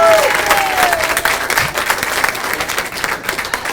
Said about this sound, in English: Now the Republicans by applause.